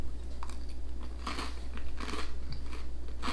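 Crunchy bites and chewing of British-style beans on toast with a curry flavour, several close crisp crunches of toasted bread spread across a few seconds over a steady low hum.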